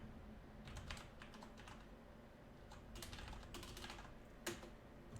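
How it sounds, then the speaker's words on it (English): Keys clatter on a computer keyboard during a Python programming lesson, in quick, uneven bursts of soft clicks over a low steady background hum, with no talking. "Hard to type and talk at the same time."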